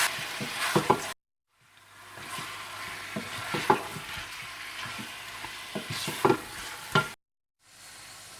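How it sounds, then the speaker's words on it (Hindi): Chicken being stirred into biryani masala in a pot, with repeated scraping stirs over a soft sizzle and frying crackle, pausing briefly twice. "साथ ही आप चिकन भी डाल दें। और अच्छी तरह से मिला लें।"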